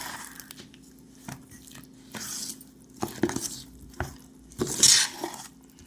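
Palm fruit dough is mixed with powdered jaggery and salt, giving soft squishing and stirring sounds with intermittent clinks of a utensil against a metal vessel and a sharper knock near the end.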